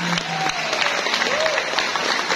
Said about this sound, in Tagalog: bigyan natin ng napakasigabong palakpakan ang ating napakasipag na principal